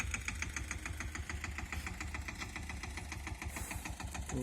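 Mini tractor engine running in a field where it has been building earth bunds, a steady mid-pitched chugging with rhythmic knocking pulses, close and continuous.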